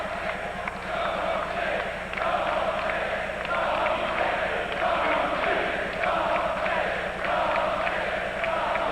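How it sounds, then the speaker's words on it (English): A college basketball home crowd in an arena keeps up a continuous dense roar with rhythmic stamping or clapping pulses underneath, loud and sustained from start to finish. "Bowling Green crowd has been a tremendous source of moral support for Jim Larinaga and his Falcons today"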